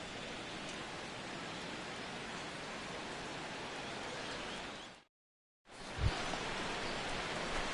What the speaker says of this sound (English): as the rain continues to fall here